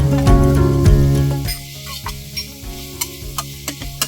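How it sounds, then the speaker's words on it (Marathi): Fenugreek leaves being sautéed in a gravy for methi matar pulao, with a loud hiss and bubbling at first that settles into a quieter sizzle punctuated by regular spatula scrapes against the pan. "आता आपल्याला ही मेथीची पानं घालून ही ग्रेव्ही परतून घ्यायची"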